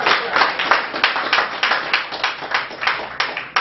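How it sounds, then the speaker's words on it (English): Sparse applause from a small group, with distinct individual claps landing in an uneven rhythm at close range, loud and with no talking over them. "Give yourself a round of applause."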